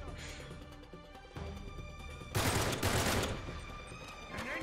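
A grenade detonates in a castle setting in the Uncharted 3 video game, a loud crashing burst that swells for about a second amid ongoing gunfire and game noise, with a voice speaking over it.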